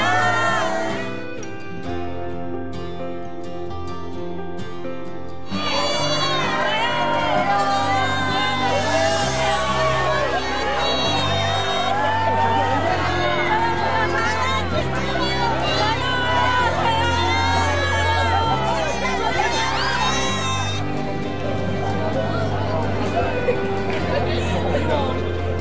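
A cinema audience at a stage greeting for the film Hijack 1971 at Yongsan CGV shouts loudly with raised hands, many overlapping excited voices and whoops filling the hall after a short quieter stretch of talk.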